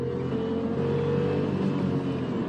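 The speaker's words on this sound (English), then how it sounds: "You still have to push the car pretty high in the revs, but we get there pretty quickly." Dacia Sandero engine revving hard as the car accelerates up a highway on-ramp, a steady loud interior drone with road noise, no talk.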